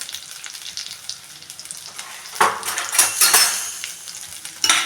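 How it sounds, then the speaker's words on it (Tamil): Onion, garlic, ginger and green chili sautéing in a pan, a continuous close sizzle with bursts of scraping and clattering as a spoon stirs against the metal, louder toward the end, with no voices. "நல்லா வதக்கணும்."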